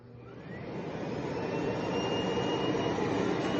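A Miele Blizzard CX1 Cat & Dog bagless canister vacuum cleaner starts up and settles into a steady, fairly soft whooshing motor hum, close by, running alone without talk.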